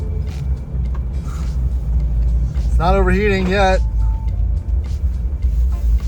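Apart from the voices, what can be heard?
Land Rover Discovery 1 truck running and driving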